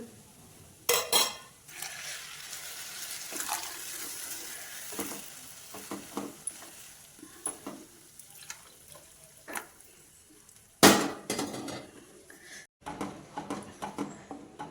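Milk poured into gram flour roasted in ghee in a pot, with clattering of a metal pot and utensils, a few sharp knocks and scraping stirring sounds, moderately close with no talking.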